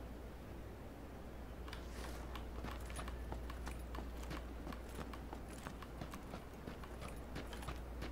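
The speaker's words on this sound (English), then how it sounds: "I hear footsteps though." Rapid footsteps in an online battle royale shooter, steady crisp taps continuing over a constant hiss of game ambience, with no talk over them.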